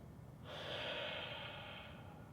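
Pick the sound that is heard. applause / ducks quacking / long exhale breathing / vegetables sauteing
long exhale breathing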